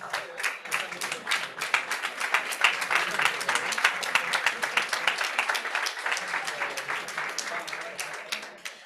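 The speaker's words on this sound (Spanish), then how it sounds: "un aplauso para Josep María Fericla." An audience at a talk on psychedelic ritual claps steadily, a dense, sustained round of applause lasting several seconds without a break.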